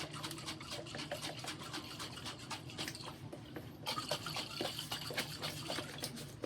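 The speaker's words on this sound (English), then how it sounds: "You're going to pour this sauce in there first." Thick jarred pasta sauce poured over chopped vegetables for veggie spaghetti at home, giving a steady close wet glugging and sloshing that runs throughout without talk.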